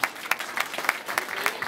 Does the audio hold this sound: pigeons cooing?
no